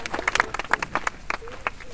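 A group claps in a short, scattered burst of applause, the claps uneven and fairly close, with voices speaking over the clapping.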